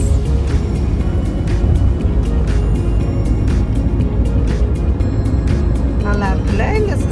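Cars driving along a highway with no lorries, a steady broadband road roar from inside a moving vehicle on an Indian road trip, with faint tonal chirps near the end and no talking.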